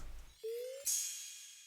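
Layered crash cymbal samples in a pop music production beat: a short steady tone gives way to a bright, splashy cymbal wash that rings out and slowly fades, heard alone.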